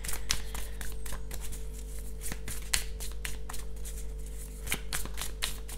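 Tarot cards being shuffled by hand in a series of quick riffles and soft slaps, close and fairly steady, with a low constant hum underneath.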